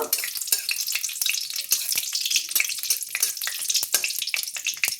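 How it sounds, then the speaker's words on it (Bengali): Close, steady sizzle of dried chillies and nigella seeds frying in hot oil, with dense crackling and spitting that never lets up. "ফোড়নটাকে একটু ভাজা ভাজা করে নেব"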